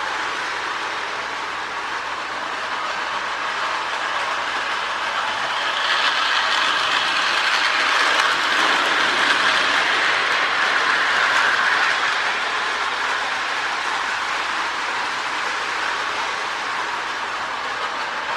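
A K-Line S2 model train switcher with DC can motors running along track, a steady mechanical whir with rhythmic clicking of wheels on rail joints, close and continuous, swelling slightly as it passes nearest.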